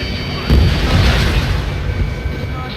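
Explosions and anti-air fire in the combat flight game Ace Combat 7, a loud rumbling boom followed by dense crackling blasts and a continuous roar, close and heavy.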